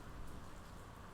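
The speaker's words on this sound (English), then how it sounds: "this rain is like coming down" Heavy rain pours down outside in a steady, loud, continuous wash that fills the whole moment with no voices over it.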